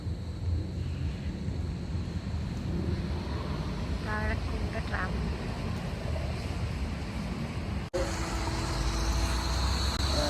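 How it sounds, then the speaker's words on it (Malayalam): A steady, broad roar of a passing airplane overhead fills the scene, with brief higher tonal chirps partway through and an abrupt cut near the end. "മേലെ കൂടെ വിമാനം"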